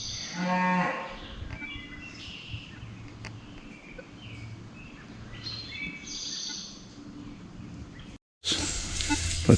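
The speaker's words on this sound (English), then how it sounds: "I think that's why the cows are going crazy" Cattle moo loudly near the start, then keep lowing intermittently at middle distance outdoors in open farmland, with some faint bird chirps, before a brief gap and a louder rustling burst at the end.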